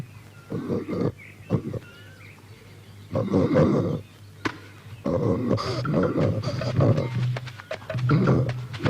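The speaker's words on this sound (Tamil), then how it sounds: "கரடி" A bear roars in a series of loud, rough, guttural bursts with short pauses between, close and harsh.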